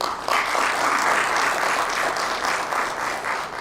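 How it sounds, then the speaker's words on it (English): Steady applause from an audience at a community panel event on ending domestic violence, dense and continuous for the whole stretch, holding an even level before easing slightly toward the end. "Please give me a hand of applause for Attorney Fu Vu"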